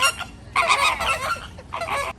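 Greater flamingos at the San Diego Zoo give loud, nasal honking calls in two bursts, a long clamour followed by a shorter one, with flock noise between and no talk.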